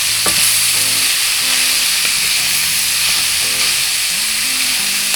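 Loose baby spinach sizzles steadily in a hot pan, a constant bright hiss with soft stirring knocks scattered throughout.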